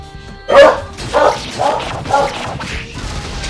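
A dog in the video game Persona 3 Portable gives a run of loud, close, rapid barks, about five in quick succession during battle.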